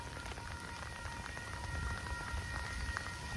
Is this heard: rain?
yes